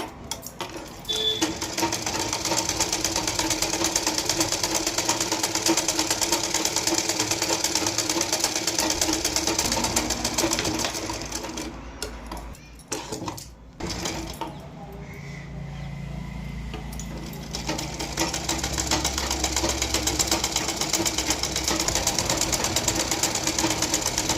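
A sewing machine stitches a cross-cut blouse with a fast, even mechanical whir running nearly the whole time, briefly stopping and then resuming at a slightly different pitch.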